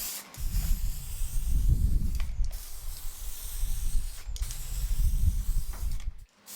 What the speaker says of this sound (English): Have I mentioned that this has an amazing spraying pattern?